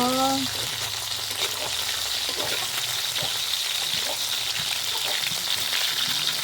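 Fish frying in a pan of hot oil, a dense continuous crackle and sizzle throughout at close range with faint scattered spatters, a brief tonal squeak at the start and no clear voices.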